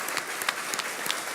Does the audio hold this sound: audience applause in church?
yes